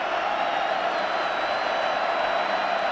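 Football stadium crowd roaring on third and three during an NC State versus UNC game, a dense, continuous wash of cheering heard from a distance, loud and unbroken, with a faint whistle-like tone riding above it.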